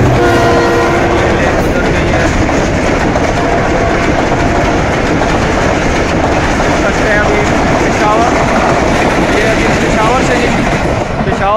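The Khushhal Khan Express passenger train in Pakistan passes close by, a loud continuous rumble and rattle of wheels and cars with horn blasts near the start, while someone talks over it.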